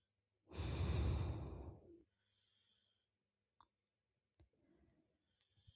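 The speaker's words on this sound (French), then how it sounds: "Ensuite, respire profondément." A single long, deep breath, loud and close, lasting about one and a half seconds, followed by near silence with a few faint clicks and soft rustles.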